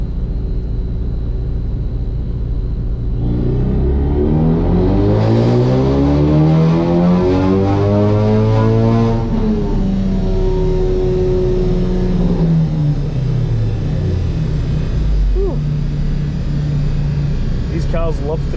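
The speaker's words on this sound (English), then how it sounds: "That's the first time I've ever done a pull on the dyno with this car" A Ford Focus RS engine revs up hard under load on a dyno, its pitch climbing steadily, then drops back and winds down, loud and droning with a rumbling undertone.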